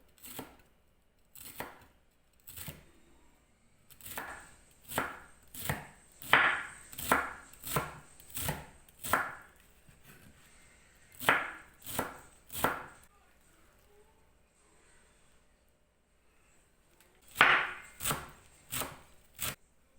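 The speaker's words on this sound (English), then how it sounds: "So chop them into fine pieces as we did for the first dish." Knife chopping radish leaves into fine pieces on a cutting board, a run of crisp, evenly spaced close-up strikes in bursts with short pauses between them and no talk.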